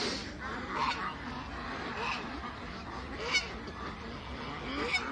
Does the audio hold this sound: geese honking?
yes